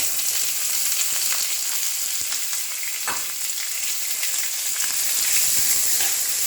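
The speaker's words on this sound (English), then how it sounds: "we sauteed onion" Onion sautéing in a hot pan gives a steady, close sizzle and spluttering crackle that holds for several seconds, with faint stirring touches in between.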